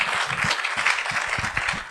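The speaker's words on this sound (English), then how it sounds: "Let's give him a big round of applause." Audience applause at an international legal conference, a close, dense wash of many hands clapping steadily with a few stronger individual claps standing out, no speech on top.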